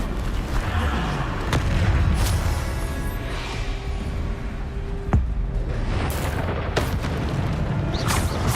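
In the Hogwarts Legacy video game, the Bombarda spell sets off deep booming blasts over a rumbling background, with a few sharp impacts spaced across the stretch.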